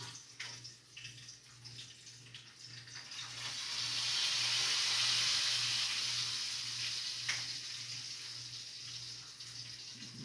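Flour-coated fish frying in a pan gives a steady hiss and sizzle that swells louder midway, over a faint low hum, with no talking.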